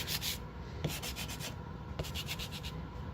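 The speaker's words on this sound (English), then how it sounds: "I'll take my sanding block and hit in a couple different places" A sanding block scrubs back and forth over painted wood in steady, rhythmic strokes, close and fairly quiet, with no talking.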